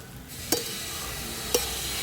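Poha being stirred in a pan over a wood-fired chulha, a steady soft sizzle with two sharp spoon knocks against the pan about a second apart, close and unaccompanied by speech.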